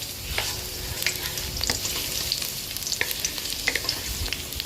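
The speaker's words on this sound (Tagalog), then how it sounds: "ilagay ko na po ang bawang at sibuyas." Garlic and onion sizzling in oil in a non-stick pan, a steady bright hiss with scattered pops and occasional stirring scrapes, close and alone.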